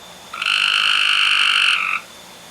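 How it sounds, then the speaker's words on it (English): A frog croaks outside a house: one loud, sustained, buzzing trill lasting over a second, close and clear against a quiet background. "Don't come in my house, frog."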